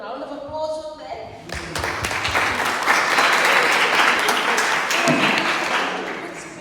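Audience applause at a team feedback session for a coding competition, swelling quickly into sustained, loud clapping from a crowd that holds steady for several seconds before tapering slightly, with voices mixed in early.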